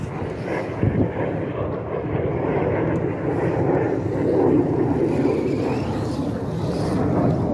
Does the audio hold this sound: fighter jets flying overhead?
yes